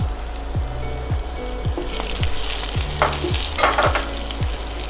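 Masala is stirred while roasting in a pan. A loud, steady sizzle runs under repeated scraping strokes of the spoon against the pan, about one every half second, and no voice is heard.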